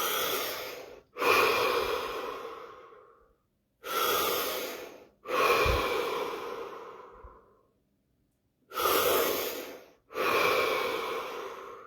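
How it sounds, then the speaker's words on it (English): Deep, slow breaths during a guided meditation session, three pairs of long inhales and exhales, close and loud, with silent pauses between each pair and no talking. "5 deep breaths"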